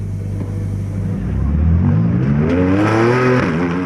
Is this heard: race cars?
yes